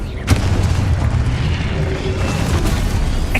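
A Confringo blasting curse explodes in the Hogwarts Legacy video game, a loud sudden boom near the start that trails off into a sustained rumbling roar.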